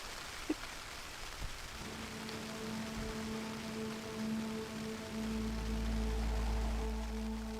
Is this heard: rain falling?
yes